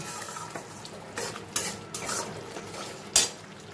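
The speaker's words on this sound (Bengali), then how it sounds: "এবার আমি এর মধ্যে ভেজে রাখা আলুটা অ্যাড করে দেব" Fried potatoes tipped into a pan of spiced masala for a vegetarian soybean and pea kofta curry, with a few sharp clinks and scrapes of a spoon against the pan over a faint background.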